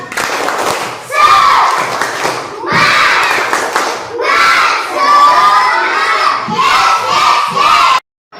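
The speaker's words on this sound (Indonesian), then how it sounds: "Tepuk semangat dulu. Tepuk semangat." A primary-school class of third graders in Indonesia chants loudly together in rhythmic bursts with clapping, a lively group of children's voices close by, pausing briefly between phrases before cutting off.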